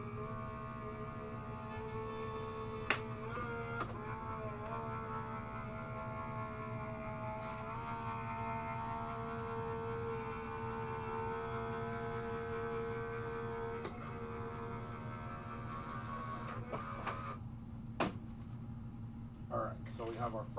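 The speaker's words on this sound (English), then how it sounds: "it runs perfectly through your die cut machine" An electric die-cut machine runs while paper pieces for a spring card feed through it, giving a steady close motor hum with layered tones for about twenty seconds, broken by a few sharp clicks.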